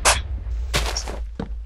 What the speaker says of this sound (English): I felt that explosion.